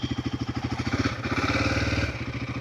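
A Royal Enfield Himalayan 450 motorcycle, a 196 kg bike, climbs a slope with its single-cylinder engine thumping in a fast, steady pulse that swells and holds as it pulls uphill, close and loud.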